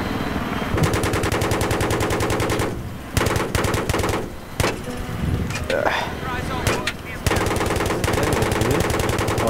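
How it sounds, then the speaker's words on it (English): Rapid machine-gun fire from the Battlefield 3 video game rattles almost continuously in sustained bursts, loud and close, with short pauses; players talk over the shooting throughout. "Oh, you're shooting at someone over there."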